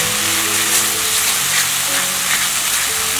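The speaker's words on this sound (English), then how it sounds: "I am going to fry the masala." Masala frying in a pan for a tandoori chicken do pyaza gravy, a loud steady sizzle that holds without a break from start to finish.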